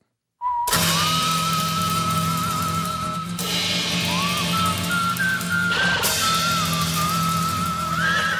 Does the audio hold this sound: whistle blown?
yes